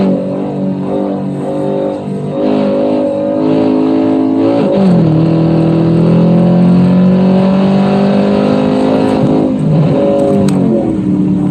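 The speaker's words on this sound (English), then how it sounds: "You can hear me downshifting" A car engine revs loudly and steadily from the cabin, with a sharp blip and pitch change as it downshifts midway and another shift near the end, no talking.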